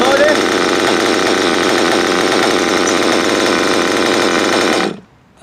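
A nitro engine in a Mugen MBX5 RC buggy with a tuned pipe idles loud and close, a steady buzzing drone that holds for about five seconds and then cuts off abruptly.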